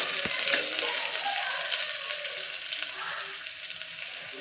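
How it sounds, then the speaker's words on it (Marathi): Green chili pieces sautéing in a hot pan for a pavta rice dish, a steady close sizzle with crackling bursts and occasional scraping as they are stirred and mixed. "हे परतून झालं तीस ते चाळीस सेकंद की यामध्ये घालतीये मी हिरव्या मिरचींचे तुकडे हे देखील मिक्स करून घेऊया"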